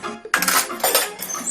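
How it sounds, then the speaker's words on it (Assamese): Dishes and utensils clatter and clink while being washed by hand at home, a close burst of metallic knocks and scrapes starting sharply and continuing irregularly to the end, with no talking. "কথা মতে বাচন ধুই আছো"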